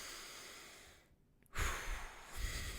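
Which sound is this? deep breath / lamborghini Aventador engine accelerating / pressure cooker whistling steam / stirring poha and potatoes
deep breath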